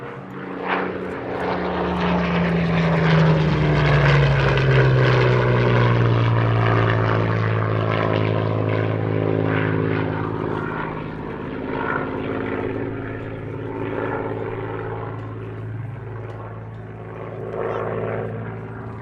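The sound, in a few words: Hurricane Mark IIC PZ-865 warbird solo flyby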